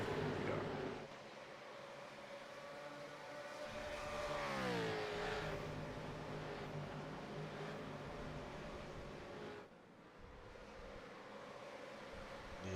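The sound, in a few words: V8 Supercars racing past at Oulton Park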